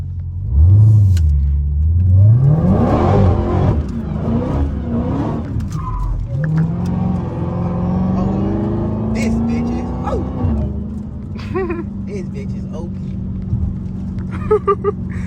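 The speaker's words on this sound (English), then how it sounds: "That's just the damn motor when you downshifting." A Hellcat sliding in a rainstorm: loud engine rumble with rising and falling revs and small pops on downshifts, heard from inside the car while people talk over it.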